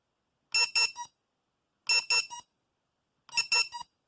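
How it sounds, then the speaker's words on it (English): The buzzer of a RadioMaster TX12 radio transmitter sounds in three evenly spaced bursts, each made of three quick shrill beeps, close and clear against silence. "So if I press our buzzer button, D, we should hear the buzzer"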